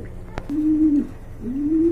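Active, aggressive racing pigeons coo close by, giving two drawn-out throaty coos with a short break between them, over faint background noise and a couple of quick clicks.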